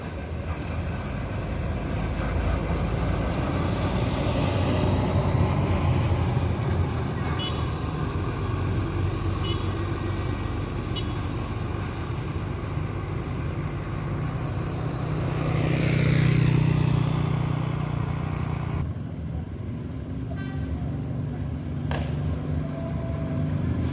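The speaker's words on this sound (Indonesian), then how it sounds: "Ini bus ANS yang ketiga keluar Terminal Baris Solok." An ANS intercity bus pulls out of Solok's Baris bus terminal in Indonesia, a low engine rumble amid traffic noise that swells into a louder passing roar midway, with some voices around.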